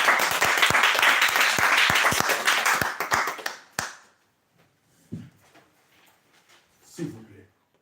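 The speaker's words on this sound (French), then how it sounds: "Nous allons acclamer pour la gloire de notre Dieu." A church congregation claps in unison with loud, rhythmic applause for about four seconds before it stops abruptly, leaving a quiet room with a few faint voices.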